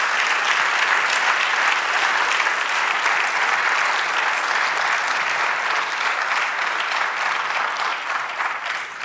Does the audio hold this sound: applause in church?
yes